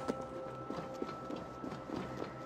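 Horse hooves clip-clopping in the Assassin's Creed Valhalla video game, a quiet, even trotting rhythm of soft hoofbeats over a faint background hum.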